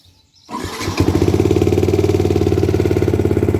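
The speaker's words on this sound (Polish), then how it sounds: "Więc odpalamy jamaszkę i ruszamy w drogę." A Yamaha motorcycle engine cranks and catches after a short quiet moment, then settles into a loud, steady idle with an even pulsing thump close by.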